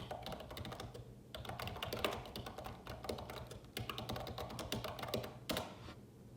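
Rapid clicking of a computer keyboard as a search query is typed, close and crisp, in quick bursts separated by brief pauses, with no talking.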